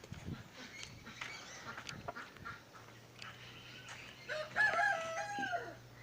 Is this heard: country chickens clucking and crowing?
yes